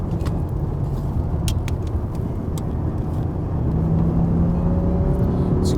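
A black 1997 BMW 840Ci with the M62 V8 heard from inside as it drives and accelerates, a loud steady engine and road rumble building slightly toward the end.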